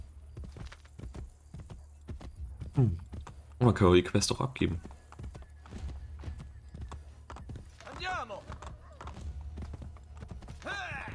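Horse hooves clopping in Assassin's Creed Brotherhood, a steady soft rhythmic patter throughout with a whinny in the middle, heard under someone speaking German.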